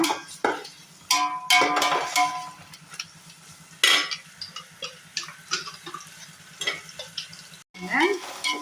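Onion, green chili and ginger-garlic paste sauté in an oiled pan for mutton biryani, a steady close sizzle broken by repeated scraping stirs and clattering spoon strokes against the pan, with no voices.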